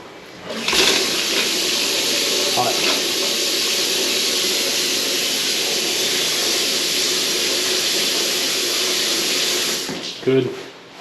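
Cold water gushing from a tap into a soaking tub after a long winter, a loud steady airy rush that holds for several seconds before cutting off, with a brief clunk near the end.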